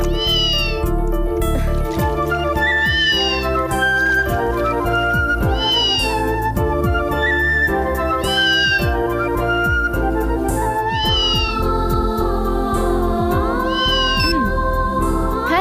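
A cat meows repeatedly at a steady rhythm over a dense, continuous bed of music or background sound, with the calls loud and close throughout.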